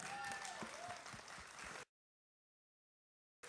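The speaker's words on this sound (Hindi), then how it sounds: "जाहिद भाई का जोरदार ताली से स्वागत करे" A studio audience on the Sur Sangram season 2 singing contest gives a short burst of applause to welcome a contestant, then it cuts abruptly to silence.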